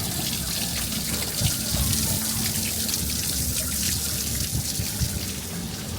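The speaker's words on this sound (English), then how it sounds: "Little water feature here." A small water feature on a rooftop bar in Phnom Penh, Cambodia, trickles and splashes in a steady, continuous stream, close by and moderately loud, with no talking over it.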